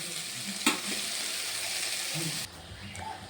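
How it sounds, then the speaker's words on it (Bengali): Prawns coated in salt and turmeric fry in oil in a kadai wok, a dense continuous sizzle that turns noticeably quieter partway through. "চিংড়ি মাছগুলো প্রায় আধা ভাজা হয়ে গেছে"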